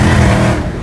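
A Dodge Charger Hellcat engine roars loud and close during a rolling burnout, a dense sustained blare that eases slightly toward the end.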